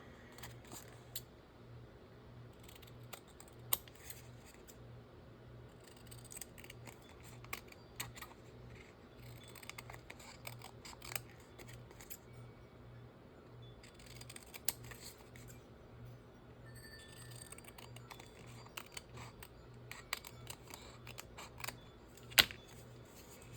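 Scissors trim paper pieces for a junk journal, giving scattered quiet snips and clicks, some in quick runs and others spaced apart, close but soft against a low steady background hum.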